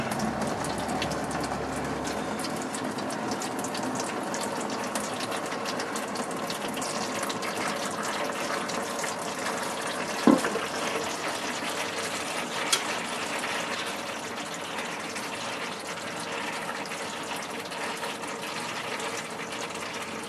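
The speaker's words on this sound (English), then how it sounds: "So I gotta get the pan pried down a little bit so I can get some of the fluid out of it." Transmission fluid from a Turbo-Hydro 400 pan pried partly down pours and spatters into a catch container in a continuous splashing stream, with a couple of sharp knocks partway through.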